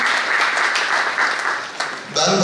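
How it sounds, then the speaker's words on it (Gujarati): An audience at a Gujarati comedy poetry mushaira claps in a dense, sustained round of applause, close and loud, fading slightly before a voice comes in at the end. "આપણે જોરદાર ફરી એકવાર આપણે તાળીથી વધારીએ દાનભાઈ વાઘેલાને"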